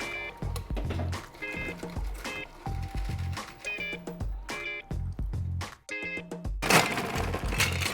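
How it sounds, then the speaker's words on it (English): A rum cocktail is strained from a shaker into a rocks glass, bringing clinking ice, metallic taps and the wet trickle of pouring liquid, with a brief splashing rush near the end. "We're going to strain this into a rocks glass."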